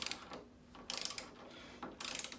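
Ratchet tightening nuts while servicing a Vaillant ecoTEC pro boiler, three quick bursts of close, crisp clicking separated by short pauses.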